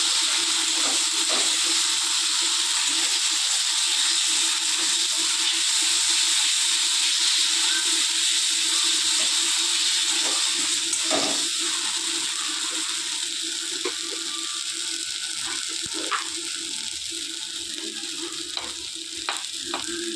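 Spices and chili powder are stirred in a hot pan with a continuous frying sizzle and hiss throughout, broken by occasional soft scrapes and taps of the stirring utensil.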